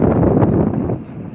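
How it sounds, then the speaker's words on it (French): Wind blows strongly at the seashore at Port-la-Nouvelle as a loud, rough, steady rush buffeting the microphone, easing slightly at the end. "il y a encore autant de vent"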